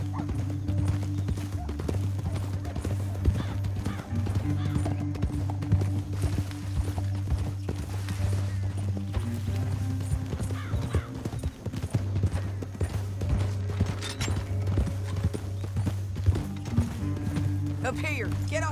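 Horse hooves galloping in Red Dead Redemption 2 during a bounty hunt, a steady rapid clip-clop running throughout over a low rumbling game soundscape, with voices and a snort or whinny heard in places.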